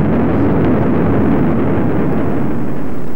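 A deep, continuous roaring rumble with booming low-end blasts, loud and sustained, like a violent volcanic eruption heard close by.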